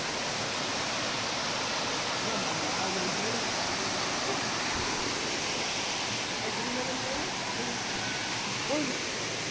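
Fast-flowing spring water at a resort in Bukidnon rushes in a loud, steady, unbroken roar, with faint voices now and then beneath it.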